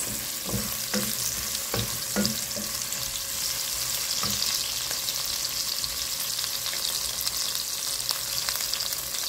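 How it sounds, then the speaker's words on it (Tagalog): Onion, garlic and tomato sauté in a pan for adobong kangkong, a close, steady sizzle with occasional scraping knocks of a utensil stirring the pan, with no talking. "nagisa na natin ang ating onion, garlic at kamatis"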